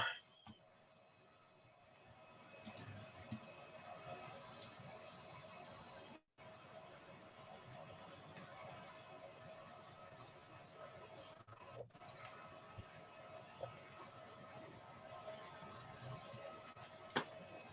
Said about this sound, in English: your printer sounds a lot like Rob's fish tank, Steve.